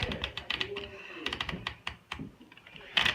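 An old typewriter being typed on, a quick irregular run of crisp mechanical key strikes up close, bunched into short bursts with brief pauses between.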